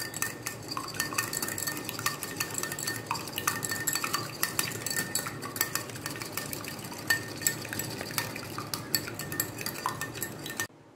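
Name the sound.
beating egg in a bowl for binding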